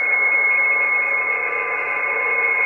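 Ham radio digital-mode signals come through a radio-to-computer interface as a steady, loud cluster of sustained electronic tones held at fixed pitches, continuous and unbroken with no voice present.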